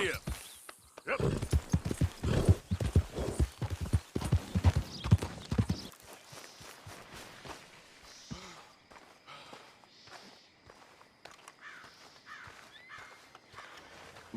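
A horse's hooves pound in a brisk, loud rhythm in the Red Dead Redemption 2 video game, then drop to softer, scattered steps with faint voices and ambient sound behind them.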